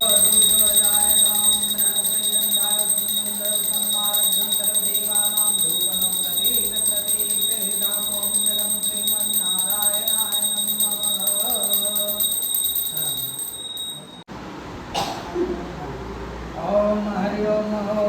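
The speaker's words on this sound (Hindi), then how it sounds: "थोड़ा घंटी बजा दीजिए।" A hand bell rings continuously during a Satyanarayan puja at home, a steady, bright metallic ringing that persists loudly under people talking and chanting, then cuts off near the end as voices continue.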